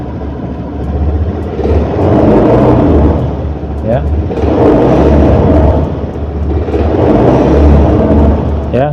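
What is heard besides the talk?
fuel-injected motorcycle engine revving up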